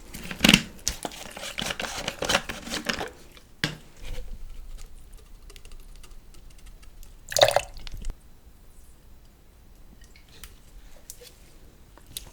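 Water poured over flowers in a flower shop, with a rush of splashing and patter at the start, a brief burst midway, then quieter scattered drips and trickles, close and intimate.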